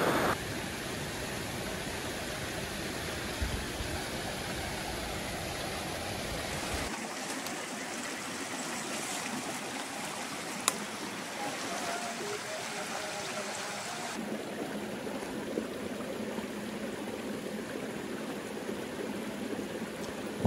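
A river stream flows by a riverside hiking spot in Nepal during the cold winter months. The continuous rushing water stays close and fairly loud, and its tone shifts slightly partway through.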